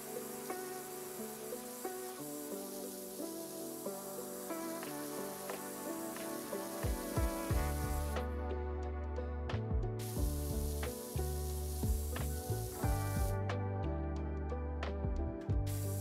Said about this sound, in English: we can continue to spray down some